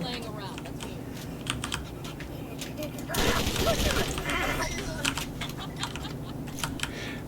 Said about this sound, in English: this new weapon is just very strong. It fires 4 bullets at once.